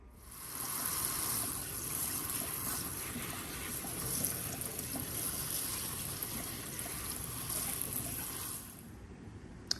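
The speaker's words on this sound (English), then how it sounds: "So I'm just gonna let it drain out here for a little bit." Water drains steadily from a houseplant pot set in a sink, a continuous trickling and splashing that runs near and fairly quiet for several seconds before stopping abruptly.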